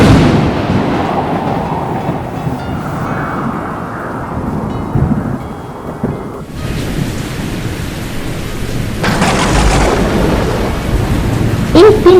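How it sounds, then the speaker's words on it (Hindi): Heavy rain pours during a thunderstorm, long rolling thunder rumbling loudly through the first half, then a dense steady downpour hissing that swells louder toward the end. "एक दिन भारी बारिश हुई।"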